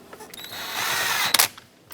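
A power driver tightens a T20 screw on a 2008-2010 Ford F-450 steering column during ignition switch replacement, a short rising whir of about a second ending in a couple of sharp clicks.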